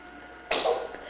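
A single sudden, sharp sneeze bursts out close by after near silence, then quickly fades.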